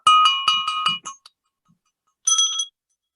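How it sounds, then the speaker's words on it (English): Several bright metallic Shelley bell rings in quick succession, joined by the clinking of a Shelley china cup, then a short pause and a final ringing burst. "We are ringing the Shelley bells and a Shelley China cup"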